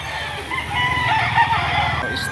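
A rooster crows loudly and close over chickens clucking at a busy poultry market selling local banded roosters, one drawn-out crow rising above the flock's murmur.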